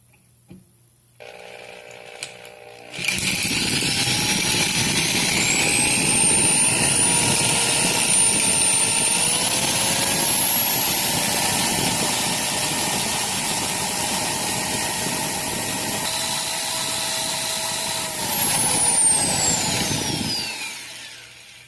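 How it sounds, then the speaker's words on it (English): A power drill whines steadily for about seventeen seconds as it drills out a steel screw on a Honda CR-V front brake rotor, its pitch rising then holding high before winding down; loud and close. "this is the first screw that I'm going to be drilling out"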